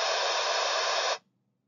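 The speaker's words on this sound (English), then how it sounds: "and when I go to white noise" Broadband white noise stimulus from an Interacoustics PA5 audiometer plays steadily and loud for just over a second, then cuts off abruptly into near silence.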